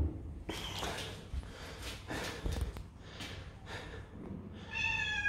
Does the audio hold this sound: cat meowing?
yes